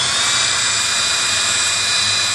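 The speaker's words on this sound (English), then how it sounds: "set the drill to turn to loosen screws" A handheld drill whirs steadily at high speed while twisting wire for a Mobius coil, a loud continuous whine held for a couple of seconds with no talk.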